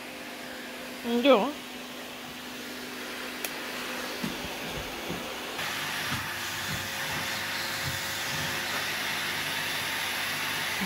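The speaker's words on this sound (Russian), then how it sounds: "Что, мой хороший, пылесосят там, да, пылесосят." A vacuum cleaner runs on a carpet indoors as a steady droning whine that holds throughout, with a few brief knocks. Someone speaks over it near the start.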